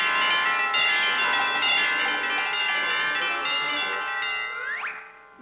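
Cartoon bells in a belfry in a Woody Woodpecker cartoon ring loudly with a sustained, shimmering metallic tone that holds for about five seconds before a quick pitch-bending boing-like slide at the end.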